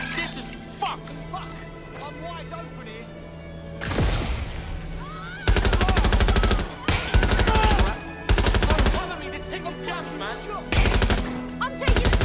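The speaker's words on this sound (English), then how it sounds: "The turret's gonna do you in!" Turret gunfire in Watch Dogs Legion: loud bursts of rapid automatic fire in several long volleys, separated by short pauses, with shouting voices and game effects in between.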